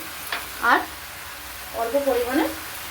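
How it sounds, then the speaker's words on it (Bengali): Malabar spinach fries in oil with a soft, steady sizzle, broken by two short bursts of a nearby voice. "এই সবজিটাকে আমি এই তেলপোটা তেলেতে ভালো করে ভেজে নেবো"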